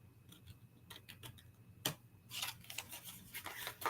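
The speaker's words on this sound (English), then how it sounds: "In with the scissors." Scissors snip through an old Christmas card being made into a gift box, a run of quiet, close clicking cuts followed by denser rustling snips of the paper, with no talk.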